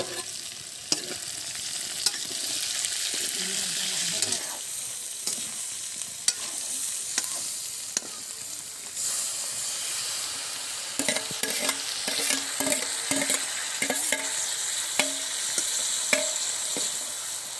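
Gobhi saag greens fry and sizzle steadily in a pan, with a spoon scraping and stirring through them in repeated clinks and rustles, close and continuous without any talking.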